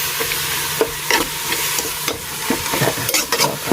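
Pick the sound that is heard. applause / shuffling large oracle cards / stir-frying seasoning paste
stir-frying seasoning paste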